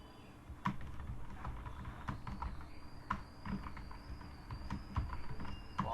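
Steady typing on a computer keyboard while writing text in Microsoft Word, with close, quick irregular key clicks running continuously under a faint background hum.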